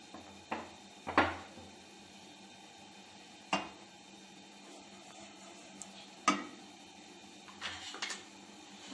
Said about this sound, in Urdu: سب سے پہلے ہم ایک پین لیں گے، اس میں گھی ڈالیں گے